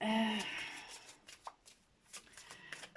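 Soft, quiet riffling and tapping of tarot cards being shuffled, a scattering of light clicks after a brief faint voice at the start.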